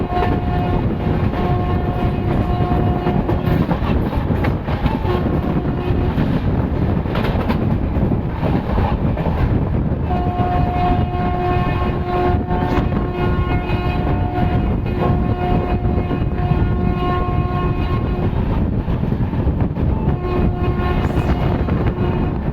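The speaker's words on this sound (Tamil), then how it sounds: "சென்னை அரக்கோணம் லைனில் புதுசாக லான்ச் ஆகி இருக்கக்கூடிய ஏசி இஎம்யூங்க" A new AC EMU train on the Chennai–Arakkonam line rumbles loudly and steadily throughout, with sustained horn-like tones sounding on and off above the constant running noise.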